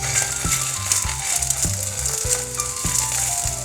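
An egg frying in hot oil gives a steady, dense sizzle and crackle throughout, with repeated rhythmic knocks and rattles of chopsticks against the pan, close and fairly loud, with no voices.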